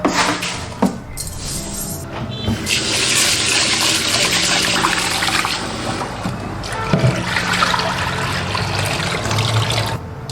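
Rice grains are washed by hand in a bowl of water, with continuous sloshing, swirling and splashing, loud and close, with a few sharper knocks.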